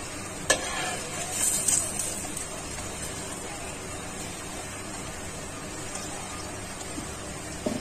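Food frying in an oil-filled pan is stirred and turned, giving a soft continuous sizzle with a sharp utensil tap near the start and light scraping bursts, fairly close and moderately quiet.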